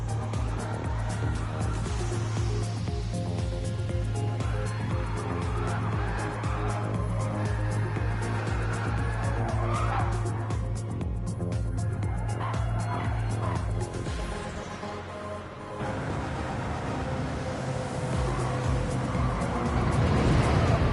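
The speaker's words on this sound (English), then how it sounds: "because he wants to sit there and do burnouts." A car in a racing video game does burnouts, with sustained engine drone and tire squeal under steady game noise. There is a brief dip partway through before the squealing engine sound returns loudly.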